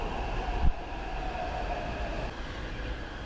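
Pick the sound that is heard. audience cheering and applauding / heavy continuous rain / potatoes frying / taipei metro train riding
taipei metro train riding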